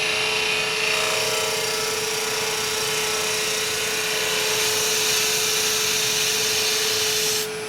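A skew chisel makes a paring cut on wood spinning on a lathe, with a steady, continuous hiss and whine of the shaving and the running lathe motor, close and even throughout.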